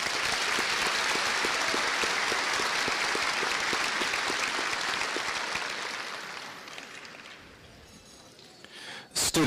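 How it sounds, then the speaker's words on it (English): Sustained applause from a large graduation ceremony crowd for the high school class of 2023, dense clapping that holds steady for several seconds and then gradually thins and fades toward the end. "Let's give these two seniors another round of applause."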